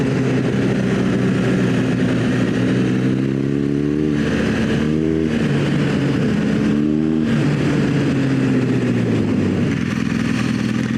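Motorcycle on Bridgestone AX41 adventure tires riding over sand on a road, its engine droning loudly and steadily, the pitch wavering with throttle changes and a brief rev dip, accompanied by strong wind noise.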